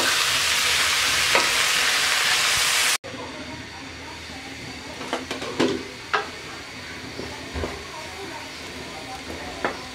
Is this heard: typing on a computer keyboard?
no